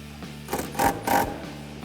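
Socket wrench ratcheting on 10mm air box bolts of a Toyota Tacoma during a cold air intake install, two short bursts of close mechanical clicking over low hum.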